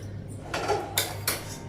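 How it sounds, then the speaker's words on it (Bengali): A karai (wok) set down on a gas stove in a Bengali home kitchen, giving three short metallic clanks over a steady low hum. "কড়াইটা বসিয়ে দিয়েছি"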